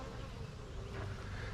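Honey bees buzz in a dense, steady drone at an open backyard beehive, a close continuous hum with a faint low rumble beneath.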